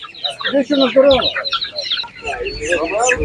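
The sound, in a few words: chickens clucking at an animal market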